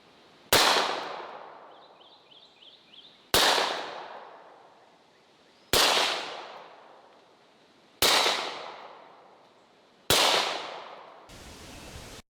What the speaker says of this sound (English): like to be shot at by a Desert Eagle suppressed with subsonic ammunition